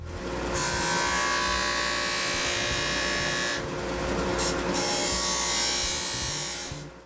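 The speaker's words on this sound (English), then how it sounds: "it makes this satisfying sound when you use the sander on the resin" A disc sander whines loudly and continuously as it grinds cured resin on plywood-and-resin coasters, its pitch shifting briefly midway before resuming, with no voices.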